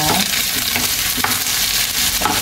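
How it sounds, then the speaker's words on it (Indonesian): Green and red chilies stir-fry in a pan with onions that have already softened, making a loud, dense sizzle with quick stirring scrapes at short intervals and no voices. "Lanjut kita menumis cabai hijau, cabai merahnya."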